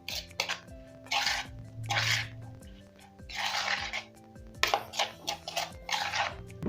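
Kachumbari salad of onions and pepper being tossed and mixed in a bowl: irregular wet, squishy bursts of mixing, with soft clinks and pauses between strokes, close by and with no talking.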